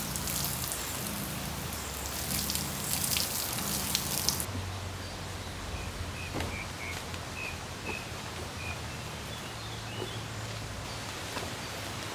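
Outdoors by a stream, a steady wash of gurgling water from a small waterfall fills the scene, with faint bird calls chirping intermittently in the background.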